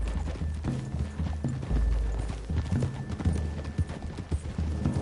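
Horses walk in the video game Red Dead, their hooves clip-clopping in a steady, quiet rhythm that continues throughout, with faint background rumble beneath.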